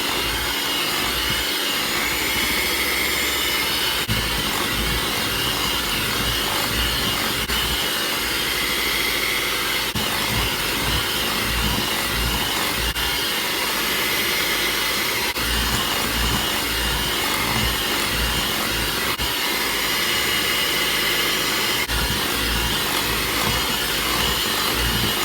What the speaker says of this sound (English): Going to add them one at a time, beating after each egg.